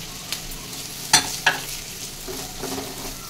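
Chopped capsicum, onion, green chilli and carrot stir-fry in a pan for veg chilli noodles, a low steady sizzle broken by two sharp clinks of the spatula and a few softer stirring scrapes.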